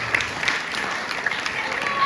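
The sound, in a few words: audience applause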